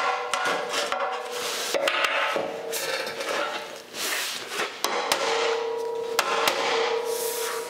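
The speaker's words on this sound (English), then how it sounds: "Try a lighter hammer, see what happens." Repeated sharp hammer strikes on a 1956 Chrysler Windsor's metal rear bumper, irregular and close, with ringing clanks and scraping between blows; no talking.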